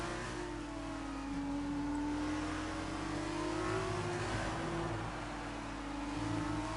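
F2 race car accelerating in an online race at Abu Dhabi, its engine whining steadily higher and shifting up through the gears, loud and continuous with no voices.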